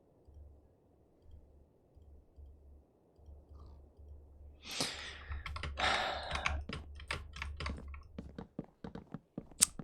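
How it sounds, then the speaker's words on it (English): Repeated clicking and tapping on a computer keyboard and mouse, starting quiet after a soft low hum and growing into a rapid run of sharp, close clicks. "Why am I doing this when I can just click that a bunch of times?"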